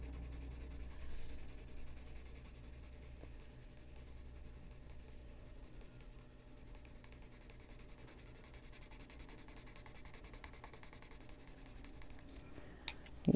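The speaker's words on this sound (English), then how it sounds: "You hear the wax in the pencils if you're wondering what that noise is." Derwent Procolour wax-based colored pencils rubbing across textured paper while swatching and blending colors, a soft, continuous scratchy scraping that stays quiet and close throughout, with a faint tap near the end.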